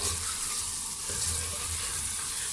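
Chicken fries in a pan with crushed green chillies, salt and pepper, making a continuous moderate sizzle and hiss close by, with faint stirring and no voices.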